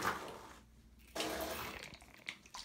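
Water squirts and splashes as a Nike sport squeeze bottle is squeezed in a bathtub of water, with a spray burst, a short pause, then a longer gushing squirt and trickling splashes, close to the microphone.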